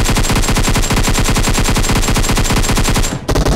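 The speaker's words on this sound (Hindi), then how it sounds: "तो भाई वे भी मैं थोड़ी और फायर करता हूँ तो वे रुक जाते हैं" Rapid automatic gunfire in a battle royale shooter game, loud and continuous at a steady fast rate for about three seconds before cutting off into a few last shots.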